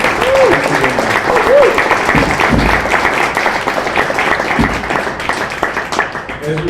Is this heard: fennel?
no